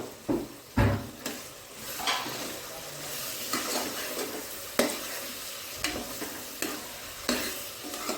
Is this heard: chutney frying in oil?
yes